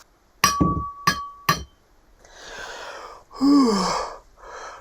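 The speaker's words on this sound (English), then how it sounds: "They all clinked glasses." Glasses of cider clinking together in a toast, three sharp ringing chinks in quick succession, followed by softer rustling and breathy vocal sounds.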